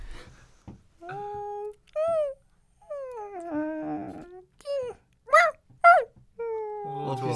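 A person's voice imitates a whimpering puppy, producing several high, whining, wavering cries in short bursts with brief pauses between them, fairly close and moderately loud, set during a Christmas radio show in a studio.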